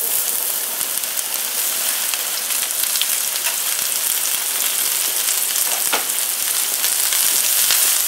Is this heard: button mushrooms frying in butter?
yes